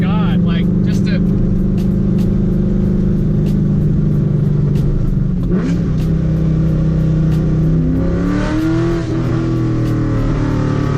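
A cheap Corvette's engine runs loud and close, a steady heavy rumble with a rising rev near the end, while a person talks over it.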